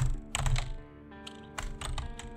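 Quick keystrokes on a keyboard, close and quiet, arrive in a few short clusters of clicks with brief pauses between them.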